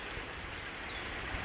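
Heavy rain falls during a tornado between Stanhope and Jewell as a dense, steady hiss that stays even and continuous throughout, with no talking.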